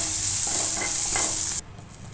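Brinjal frying in hot oil in a pan while being stirred, a steady close sizzle with soft scraping that cuts off abruptly near the end.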